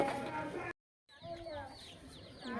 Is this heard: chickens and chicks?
yes